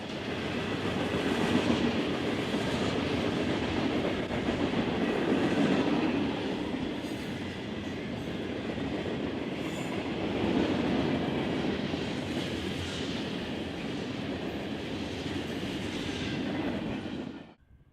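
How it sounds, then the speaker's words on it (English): An eastbound BNSF freight train rolls past on a busy mainline, a loud, steady rumble of railcars with clattering wheels and faint squeals that holds throughout before dropping away at the very end. "Our parade of trains continuing with this eastbound BNSF freight."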